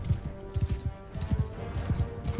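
A horse's hooves clip-clop in a video game, a quick rhythmic run of close, clear beats with a short gap in the middle.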